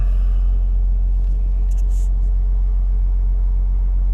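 A 2008 Jeep Grand Cherokee diesel engine runs just after starting, a loud, steady low rumble that holds even throughout, with faint light clicks above it.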